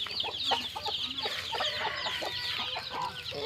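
Several chickens cluck and chatter continuously nearby, a busy overlapping chorus of short clucks with no talking.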